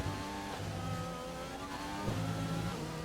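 An F1 car engine in the racing game F1 2020 whines at high revs during a race, a steady droning tone that dips and climbs again as the car shifts through gears.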